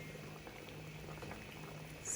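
Guyanese pepper pot boiling in a covered cooking pot, a steady low bubbling and simmer heard close up and alone, with no voices.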